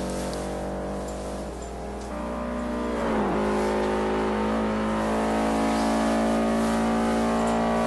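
A Subaru Impreza STI race car in the Forza 4 video game, on the Nürburgring circuit, roars loudly and continuously. It briefly drops in pitch through a gear change, then revs and climbs steadily on the straight.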